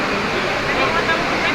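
Floodwater rushes past a workplace in a continuous broad roar, steady and fairly loud, with faint voices mixed into the noise.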